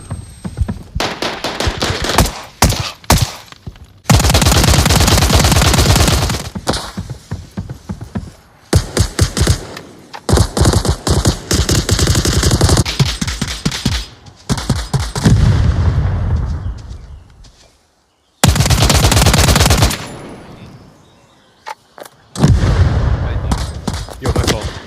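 Flashbang grenade and gunfire in the VR shooter Onward, heard as loud bursts of sharp cracks and blasts separated by brief silences, with rapid shot sequences.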